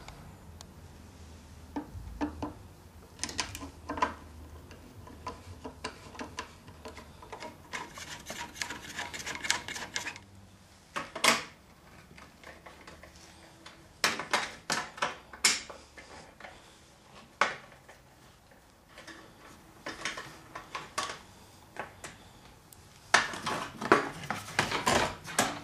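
Small tools tapping and clicking against metal parts while the air cleaner comes off a 4 HP Briggs & Stratton Quatro engine, with scattered sharp knocks and rattles in irregular bursts near the mic, no talking.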